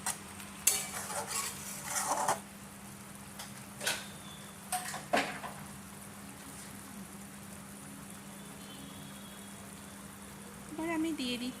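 Coconut milk simmers with spices in a pan for egg korma, a quiet, low bubbling broken by several short scrapes and clinks of a spoon stirring against the pan. Near the end the scraping returns more steadily.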